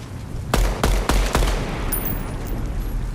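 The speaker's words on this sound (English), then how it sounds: "So rifle B is the auto one," Four sharp rifle shots crack in quick succession from automatic and semi-automatic rifles in the shooter game Deadrop, close and loud over a steady background hum, then quiet.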